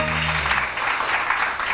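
Studio audience applauding for a panelist on a morning TV health show; short, fairly close burst of clapping that starts as a voice trails off underneath.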